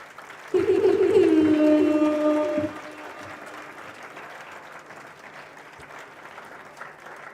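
An audience at a mathematics awards function applauds an award recipient, steady clapping continuing under a loud announcer voice at the start, then going on alone at a lower level.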